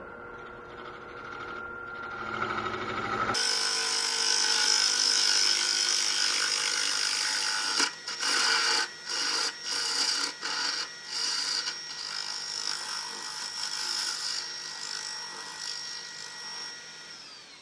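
A wood lathe turns a big walnut bowl at 800 RPM, giving a loud, steady broadband whir, broken midway by a series of sharp, rhythmic interruptions as the tool catches and chatters against the spinning wood.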